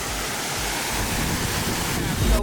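A waterfall on Réunion island pours in a steady, dense rush of broadband noise, close and fairly loud, with no clear pauses.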